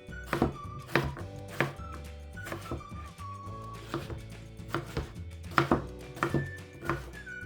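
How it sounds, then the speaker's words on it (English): Knife dicing potatoes on a cutting board, a rapid series of sharp, close chops in an uneven rhythm, with no talking over them. "Now that you're done dicing up your potatoes"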